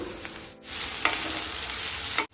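Ginger, garlic and onion fry in a pan, a dense close sizzle with soft stirring scrapes, briefly dipping and cutting out near the end.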